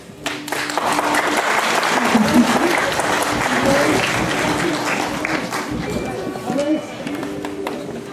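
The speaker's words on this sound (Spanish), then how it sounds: "Muy bien, los aplausos." Guests at a wedding applaud while a procession carries in symbolic items, steady clapping throughout with a voice speaking over it and some rustling, fading slightly near the end.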